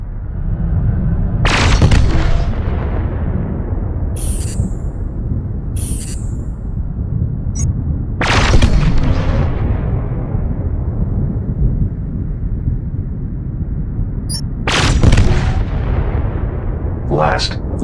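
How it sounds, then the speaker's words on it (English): Laser weapons fire in the SpaceBourne space combat game, producing repeated heavy booming blasts at irregular intervals over a constant deep rumble, with sharp crackling bursts between them. "Now let's try laser weapons."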